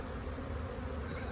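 Dense, continuous buzzing hum of a huge honeybee swarm, many wings droning together at close range with no pause.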